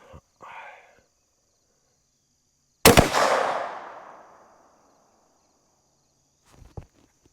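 A single sharp gunshot from a Savage Model 42 .410 shotgun firing a slug cracks loudly outdoors at a range and rolls off into a fading echo, with faint sounds of movement before and after.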